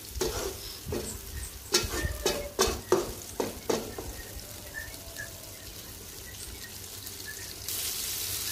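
A fish curry being cooked down in a pan, with a run of loud spoon-against-pan scrapes and stirs in the first few seconds, then a softer steady sizzle of oil and gravy on its own.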